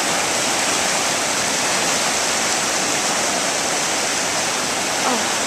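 Rushing floodwater pouring over what is normally land, a loud, steady broadband roar like a whitewater torrent that fills the whole stretch without pause.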